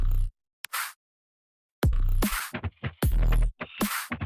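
Sparse electronic beat drums: punchy, booming kick hits paired with noisy, crisp snare bursts, separated by short gaps, loud and up front with no voices.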